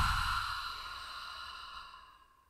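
A single long, soft exhale from a guided breathing exercise, a close breathy sigh that starts fairly loud and gradually fades out over a couple of seconds, with no talking.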